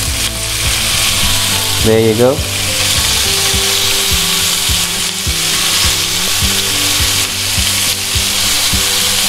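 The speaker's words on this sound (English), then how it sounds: "You can hear that sizzle." Pork belly sears in very hot oil with a loud, continuous close-up sizzle, broken by scraping stirs and taps of a utensil, while a person speaks briefly.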